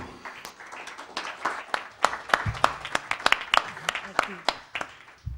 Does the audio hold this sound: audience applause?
yes